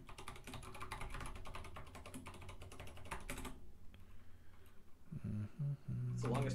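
Rapid keystrokes on a computer keyboard entering a long password, a dense run of close clicks that stops midway, followed by scattered fainter taps and brief bursts of voice.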